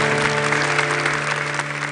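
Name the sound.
applause for God in a church service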